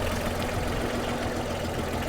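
A tractor engine runs at a steady idle in a monsoon peanut field during fertilizer sowing, a continuous low rumble that holds evenly for a couple of seconds with no voices.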